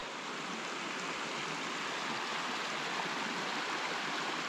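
A small stream in the Wyoming forest flows in a steady, even wash of water, close and continuous throughout with no voices over it.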